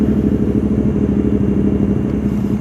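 A motorcycle engine rumbles loud and close at a steady, throaty idle during a group ride gathering in Bataan, with no talk over it.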